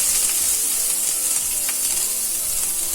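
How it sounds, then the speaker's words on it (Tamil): Chopped onions sautéing in a pan on a stove over medium flame for bread masala, giving a loud, continuous, close sizzle with no voices. "நம்ம ஸ்டவ்வை வந்து மீடியம் ஃப்ளேமில் வச்சு இது எல்லாத்தையுமே வதக்கிக்கலாம்"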